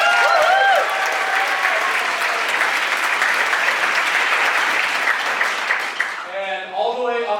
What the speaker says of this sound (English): Can we please give a huge round of applause to our sound engineer, Kevin?